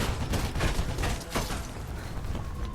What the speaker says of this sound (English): why are these cops just instant firing at us?